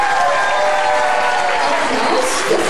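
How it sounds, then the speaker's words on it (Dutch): An audience at a 2003 scouting playback show claps in dense, steady applause that fills the whole stretch evenly and loudly, with no pauses. "Ik wens namelijk nog een applaus voor Gijs."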